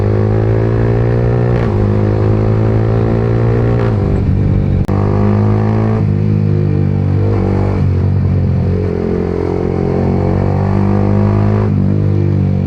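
A 2025 Yamaha R15M motorcycle roars continuously at high speed, its loud, dense engine note rising and dipping with throttle changes and shifts, close to the microphone and with no talk.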